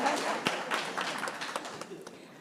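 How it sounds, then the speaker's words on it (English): Audience applause at an African regional conference on early and unintended pregnancies, a steady wash of many hands clapping with scattered louder claps, fairly close and continuous for a couple of seconds. "You can clap."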